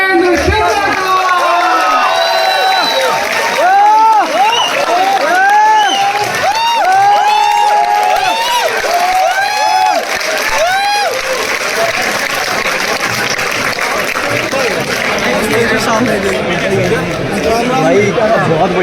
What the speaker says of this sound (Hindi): जोरदार तालियों के साथ स्वागत करिए मशहूर हास्य व्यंग्य कवि सुरेंद्र शर्मा का